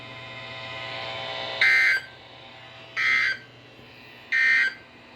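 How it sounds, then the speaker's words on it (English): A weekly emergency alert system test on a weather broadcast: three loud, identical electronic tone bursts, each about half a second, spaced evenly over a steady low hum. "This concludes the weekly test of the warning alarm system."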